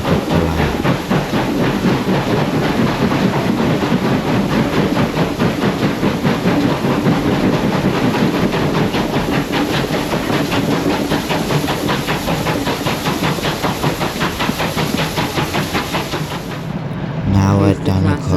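A steam locomotive on the Gwili heritage railway works hard up the line during a gala, giving loud, rapid, steady chuffing with rail clatter close by that continues almost to the end.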